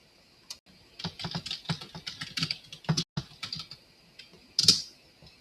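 Fingers typing on a computer keyboard while writing a recipe document, irregular bursts of close, crisp key clicks with short pauses and one louder cluster near the end.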